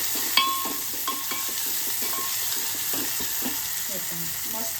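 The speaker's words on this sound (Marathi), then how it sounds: "मस्त फोडणी झालेली." Spices and coriander sizzle in hot oil for a Marathi dal tempering, a steady hiss under occasional stirring clinks and faint background voices, with one sharper clatter near the start.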